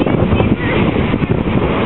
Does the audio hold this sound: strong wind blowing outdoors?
yes